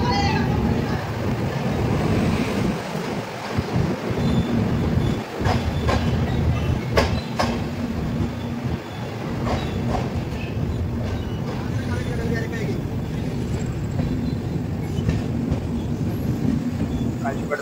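The Mahabubnagar–Visakhapatnam Superfast Express runs at speed near Kazipet, a loud continuous rumble with rail clatter and rattling heard from inside. Someone talks over the noise at times.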